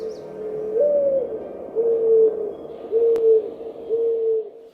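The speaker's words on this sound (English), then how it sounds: "and mourning doves." A mourning dove calls in repeated soft, low cooing phrases, four drawn-out hoots spaced about a second apart, fairly close and alone over faint background hiss.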